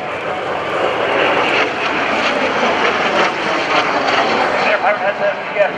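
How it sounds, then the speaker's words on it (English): A VFA 106 Gladiators jet rolling through a barrel roll over NAS Oceana at an airshow, a loud sustained engine roar that swells and shifts as it passes, with a voice speaking over it. "Pirate has that VFA 106 Gladiators jet going up into a nice barrel roll in the NAS Oceana Airspace"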